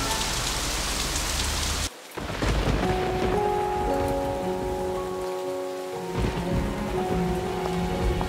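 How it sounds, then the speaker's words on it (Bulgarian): Heavy rain pours down in a dense, loud hiss. It cuts out for a moment, then returns with a sustained tonal musical bed underneath, the downpour continuing steadily throughout. "вали като из ведро"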